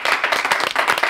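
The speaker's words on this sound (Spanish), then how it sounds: "Un aplauso para Pedro." Studio audience claps and applauds Pedro Ruíz at the close of a Spanish radio comedy show, a dense burst of hand claps, fairly near and loud, with no talking over it.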